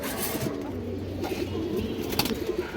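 A female Bagha pigeon on a farm gives soft, low, rolling coos that repeat steadily and sound close, with no voices over them.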